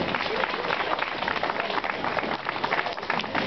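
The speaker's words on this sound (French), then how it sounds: "On les applaudit, on les encourage." An audience at a music concert applauds performers with a dense, steady burst of clapping that fills the room for a few seconds.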